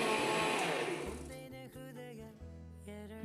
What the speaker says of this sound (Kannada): ಪಾಲಕ್ ಸೊಪ್ಪು, ಪುದೀನ, ಕೊತ್ತಂಬರಿ, ತೆಂಗಿನಕಾಯಿ ಮತ್ತು ಟೊಮಾಟೊ, ಈರುಳ್ಳಿ ಎಲ್ಲನೂ ಮಿಕ್ಸಿ ಜಾರಲ್ಲಿ ಹಾಕಿ ಮಿಕ್ಸಿ ಮಾಡ್ಕೋಬೇಕು.